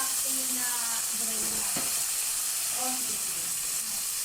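Onion and chopped tomato frying in a pan, giving a steady sizzling hiss with faint stirring clinks and no one speaking.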